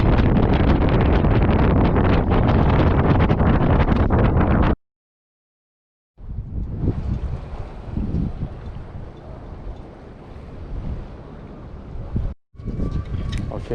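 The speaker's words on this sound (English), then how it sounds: "It's super windy." Strong gusty wind buffeting the microphone on a fishing pier at Belmont Pier in Long Beach, California, during a sand storm, loud roaring blasts broken by a sudden dropout and then a rougher, lighter rush.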